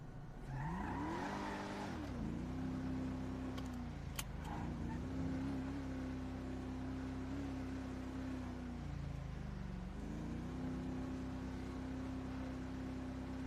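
A video game car's engine revs steadily, its pitch swooping up and down as it accelerates and eases off, with faint tire noise underneath and no talking.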